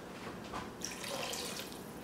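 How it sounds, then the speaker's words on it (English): Water is poured into a pot of broth and rinsed white beans, a continuous gurgling, splashing flow that grows fuller partway through, close and without talk. "And I think I'm gonna add a little bit more water, maybe 1/2 cup."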